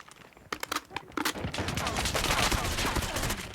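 Video game gunfire from a Peacekeeper shotgun: a few sharp separate blasts, then a dense, continuous volley of loud shots.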